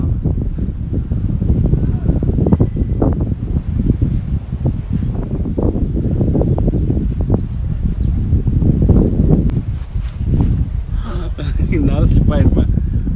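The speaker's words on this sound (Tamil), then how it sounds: "ரொம்ப ஜில் ஜில்னு காற்று அடிக்குது" Cool wind gusts across the hilltop at Nandi Hills, buffeting the microphone with a loud, rumbling roar that rises and falls continuously while a person talks throughout.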